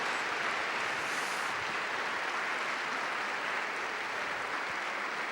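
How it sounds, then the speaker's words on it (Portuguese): A church congregation claps together in a dense, steady roar of applause that holds at an even level from start to finish. "A igreja dá uma salva de palmas para Jesus."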